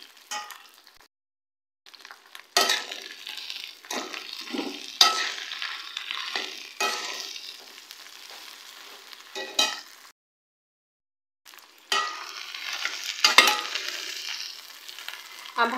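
Sliced okra (bhindi) fries with onions in a pan, giving bursts of loud, crackling sizzle and stirring that break off into short silences and then resume.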